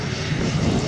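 A Finnish F-18 fighter jet in flight at the ILA Berlin Air Show 2012, a steady loud roar of engine noise with no break, heard briefly and up close.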